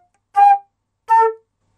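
A flute plays two short, separate tongue-only accented notes, each direct and clean with sharp starts, on an otherwise silent background.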